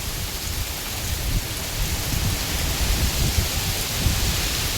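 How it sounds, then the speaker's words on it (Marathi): Stormy wind and heavy rain roar as a steady, loud wash of noise, with gusts and rainfall blending into an unbroken rumble throughout, and no voices. "अरे बापरे बघ काय वारा बघ काय सुटलाय."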